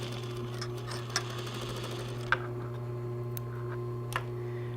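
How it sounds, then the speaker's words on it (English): A zigzag-capable sewing machine stitches along the edges of twill tape for a bustier strap, giving a steady close mechanical hum and rapid needle chatter with a few light clicks. "stitch it on both sides of the twill tape, both edges"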